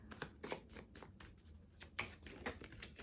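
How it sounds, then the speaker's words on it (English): A small deck of oracle cards is shuffled by hand nearby, a steady papery riffling and slapping that runs continuously with soft rhythmic pulses and no talk. "I'm gonna grab a couple more of these oracle cards"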